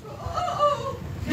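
A chicken or rooster calls nearby in a short, clucking burst over a low background murmur.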